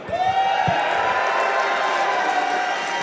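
A live crowd at the Summer Games Done Quick speedrun marathon cheers and claps loudly and steadily, a dense roar of voices and applause that sustains throughout.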